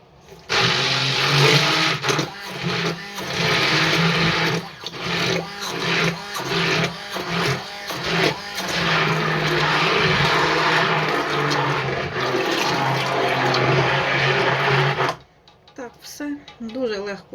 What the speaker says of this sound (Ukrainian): Тепер я переб'ю блендером.